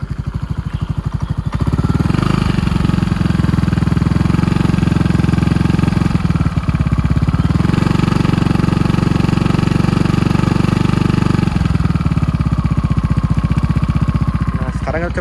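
Modified Yamaha Aerox scooter engine idling close by, a loud, rough, steady rattling drone with brief blips of throttle, running continuously with no voices over it.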